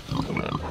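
Baby pigs on a farm grunt in a quick, close run of several soft, snuffling oinks, fairly loud and with no voices over them.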